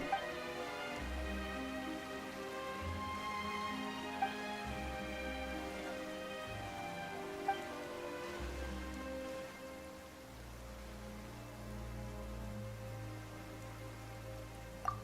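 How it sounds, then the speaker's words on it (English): Rain falls in the video game Genshin Impact: a soft, constant patter of drops under layered game music with sustained tones, with no talking. "Why is it raining all of a sudden?"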